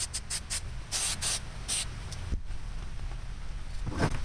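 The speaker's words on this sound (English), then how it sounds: "Now let's see what happens with the spray paint." Spray paint hisses onto a prop tombstone in short, separate bursts, several quick close sprays followed by quieter gaps and a faint final burst.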